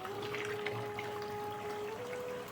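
Water running from a tap into a container for house cleaning, a steady faint rushing flow with a thin whine alongside, continuous and without voices.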